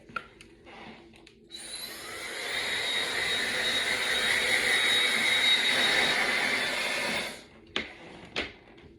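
A hair dryer blows on hair, switching on with a loud rising whoosh, running at a steady roar for about six seconds, then cutting off, followed by a few handling clicks.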